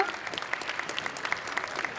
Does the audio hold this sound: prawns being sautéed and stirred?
no